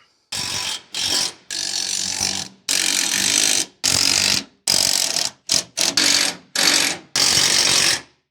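Rear axle U-bolts on a truck suspension being tightened with a ratchet: about a dozen loud, close bursts of rapid clicking ratcheting, each a second or so long, separated by short silent gaps.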